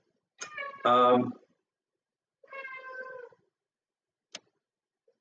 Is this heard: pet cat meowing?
yes